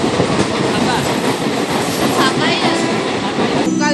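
Inside an empty local train carriage on the move, a loud constant rolling roar with rattling, ending in a brief metallic squeal.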